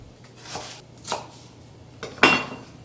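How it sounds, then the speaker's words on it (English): A knife slicing raw chicken into strips on a cutting board for sheet-pan fajitas, three separate cuts, the last the sharpest and loudest, close by with quiet gaps between. "And just slice it up"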